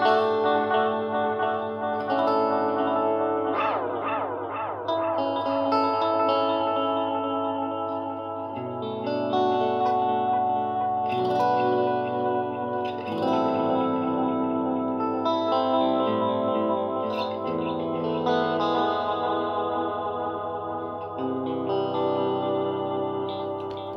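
Electric guitar played through an Electro-Harmonix Canyon delay and looper pedal, melodic phrases and chords trailing into repeating echoes and chorus-like shimmer, clean-toned and continuous with no talking.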